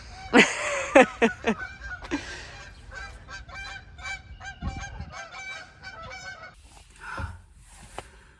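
A flock of geese honks repeatedly nearby, the loud calls overlapping in a noisy chorus with some scattered thumps.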